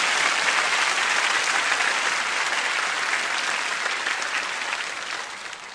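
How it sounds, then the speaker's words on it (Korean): Church congregation at a dawn prayer service gives a long burst of loud, dense applause that holds steady and then tapers slightly toward the end, with no talk over it. "우리 큰 박수로 한 번 더 격려해 주시기를 바랍니다."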